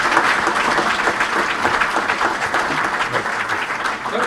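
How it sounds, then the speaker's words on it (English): Sustained applause from a sizable crowd at the launch of The Gambian Capital Market, steady and loud for the whole stretch, with no break in the clapping. "Please, let's give him another round of applause."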